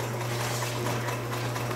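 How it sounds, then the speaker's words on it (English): A sewing machine stitches leather cowboy boots in an El Paso, Texas bootmaking workshop, a steady mechanical hum with a continuous whirring drone, moderately loud and unbroken with no talk. "the stitching, every little line on that sewing machine, every different color of thread, Raul stitches right there"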